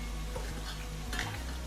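Tomatoes for Punjabi chole hit a hot pan with a brief, fairly quiet sizzle, and pot and utensil clatter sounds over a steady low hum.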